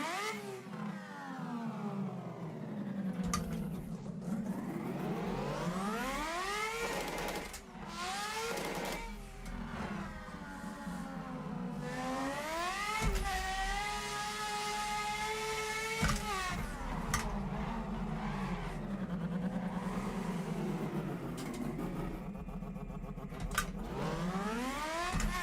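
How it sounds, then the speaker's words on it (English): Turbocharged rotary-engine car revving hard while drifting, with long sweeping rises and falls in engine pitch, brief lifts off the throttle and a continuous loud, close drone throughout. "That rotary engine sounds awesome."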